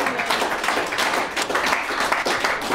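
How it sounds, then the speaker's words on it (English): A church congregation clapping their hands together, a brisk, dense burst of many hands with slight rhythmic pulses, close and lively for a few seconds. "Give him a hand clap."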